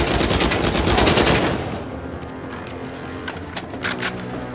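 Rapid automatic gunfire in Uncharted 4 rattles loud and close for about a second and a half, then gives way to a quieter combat bed with a few scattered shots.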